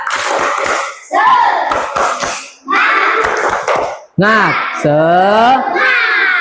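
Children doing a rhythmic encouragement clap (tepuk semangat) as a group, with loud chanted voices and bursts of clapping in a patterned rhythm, close and energetic.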